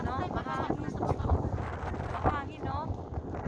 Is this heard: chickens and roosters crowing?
no